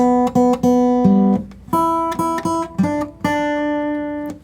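Fingerstyle guitar notes pick out a short country blues melody over a few bass tones, clear and close, with brief pauses between phrases before a final ringing note.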